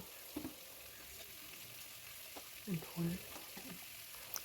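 Ginger-garlic paste and a little chilli frying with chicken in a pan, giving a faint steady sizzle with a few soft stirring knocks and scrapes, low in level and with no voice.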